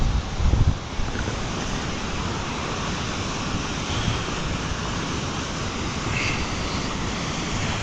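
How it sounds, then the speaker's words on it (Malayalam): Jank waterfall in Arunachal Pradesh produces a dense, unbroken roar of falling water that fills the scene at a constant level, with a brief bump of louder noise at the start and no speech. "അടിപൊളി വെള്ളച്ചാട്ടാ നോക്കി"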